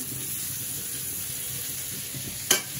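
Fried cauliflower goes into a pan of frying potatoes with a steady oily sizzle and faint stirring, and a short sharp clatter near the end.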